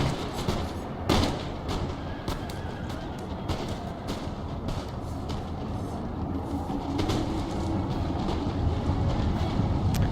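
Line infantry in Empire: Total War trade musket volleys, a steady rolling crackle of many overlapping shots with sharper reports scattered throughout, dense and continuous over a low battlefield rumble.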